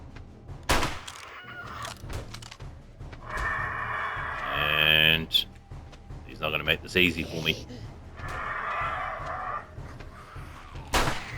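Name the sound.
bird clucking in video game 7 Days To Die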